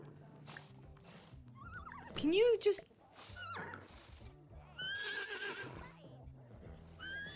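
A video game horse whinnies loudly in a rising, wavering neigh, with snorts and hoof sounds around it, mixed with game music and someone talking.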